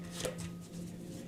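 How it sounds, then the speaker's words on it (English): Tarot cards being shuffled during a tarot reading, giving a soft, steady papery riffling with a brief sharper flick near the start, close by under a faint constant hum. "I'm kind of shuffling until the cards come out on their own"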